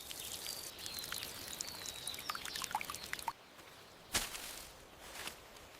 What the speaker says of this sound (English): I need to give you more water right now.